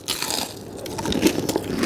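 Crunchy fried tofu is bitten close to the mic in a home kitchen, giving short crisp crunching and chewing sounds over a couple of seconds with no speech.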